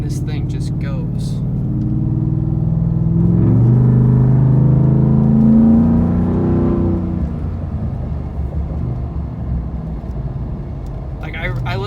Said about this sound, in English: my foot is just barely touching this gas pedal, and this thing just goes.